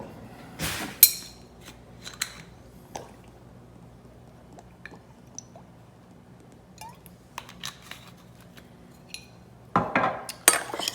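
Caesar salad ingredients are tossed with olive oil in a bowl, with sparse utensil clinks and wet squishes, a louder flurry at the start and end and near silence between.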